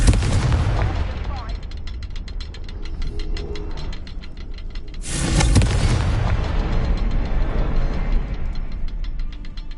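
A Confringo blasting spell in the Hogwarts Legacy video game, booming blasts over a rumbling game soundtrack with a sharp, loud burst midway, surrounded by rapid crackling and mechanical clatter.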